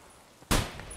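One loud, sharp gunshot in the video game Escape from Tarkov cracks out midway after a quiet lead-in and leaves a short decaying tail.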